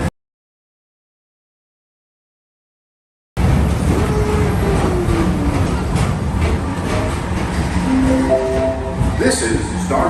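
Steady train rumble and rattle along the track, starting abruptly after a few seconds of silence and continuing loud and even throughout.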